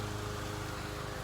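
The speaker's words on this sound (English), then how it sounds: "If you can hear that sound, that's a lawnmower." A lawnmower cuts grass nearby under cloudy, windy weather, its engine giving a steady, continuous drone with a low hum that holds even throughout.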